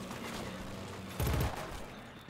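Gunfire crackles in Killzone Shadow Fall online multiplayer, a brief loud burst of rapid shots rising over a dense, noisy battle ambience.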